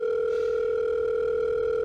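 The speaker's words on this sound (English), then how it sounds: "I'm calling my mom, she's not answering" A telephone ring-back tone holds as a steady, loud, clean two-pitch hum through a call that goes unanswered, with no voices.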